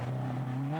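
A VW Polo, a small rally car in a 1998 Belgian regional rally, droning steadily at high revs with a gently rising pitch, close and loud in a brief burst without voices.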